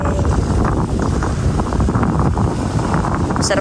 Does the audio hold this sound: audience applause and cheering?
no